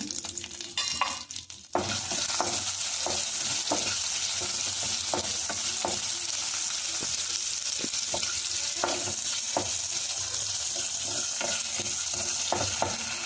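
Green chillies, cumin and mustard seeds sizzle loudly in hot oil in a pan, a dense continuous crackle with scattered pops and spatters throughout after a brief clattering start, no talking.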